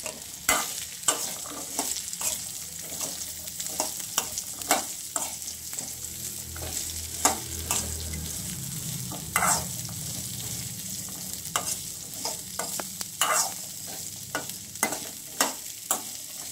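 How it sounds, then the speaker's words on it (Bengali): Thinly sliced beetroot and carrot are stir-fried for vegetable chops. A soft sizzle sits under frequent sharp scrapes and knocks of a spatula against the pan, close and steady, with no voices. "এইবার দিয়ে দেবো পাতলা করে কাটা বিট আর গাজর।"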